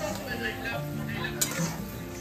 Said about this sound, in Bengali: আলু আর ডিমটা অলরেডি তো কড়াইতে দেওয়া হয়ে গেছে, মশলা দিয়ে ভালো ঘাটা হবে